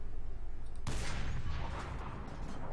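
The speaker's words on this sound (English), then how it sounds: "So let's fire at the T-34 over there." Tank cannon fire at a T-34 in the War Thunder video game: after a brief quiet hum, one loud, sharp blast hits and then fades into a long rumbling decay.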